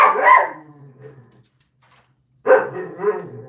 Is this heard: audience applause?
no